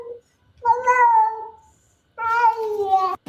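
A cat meows twice indoors, each a clear, drawn-out call close by, with a short pause between them and a faint click at the end.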